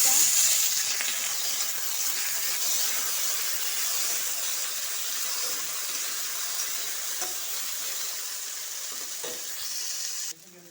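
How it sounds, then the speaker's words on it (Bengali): Jackfruit seeds frying in hot oil in a Bengali home kitchen, a steady dense sizzle and hiss that holds loud and even throughout, with faint stirring scrapes and no talk. "আর তেলও গরম হয়ে গেছে, তারপরে দিয়ে দিচ্ছি আমি এই যে কাঁঠাল বিচিটা"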